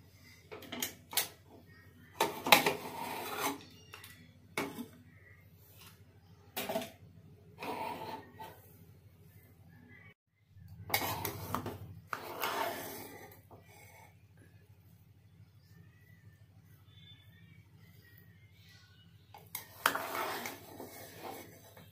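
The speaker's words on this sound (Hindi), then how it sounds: "आप लोग के पास ही मैं खोलूँगी कुकर" Clatter of pots and utensils in a home kitchen as a pressure cooker is opened after cooking tehri, with several sharp metallic knocks and bursts of rattling separated by quiet pauses, no talking.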